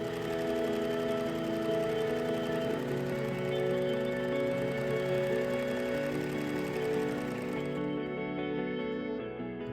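A sewing machine runs steadily for about eight seconds, stitching the inseam of a jumpsuit made from secondhand fabric, then winds down toward the end; close and fairly loud, with no talk.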